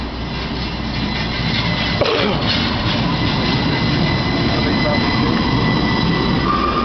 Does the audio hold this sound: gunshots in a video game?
no